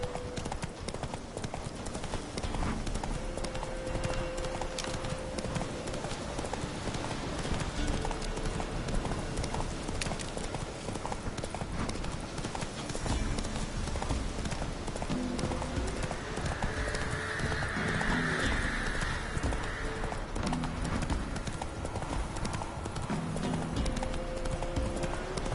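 Horse hooves clip-clop steadily at a gallop in The Witcher 3 video game, a continuous rhythmic beat under game music, with a brief whinny partway through.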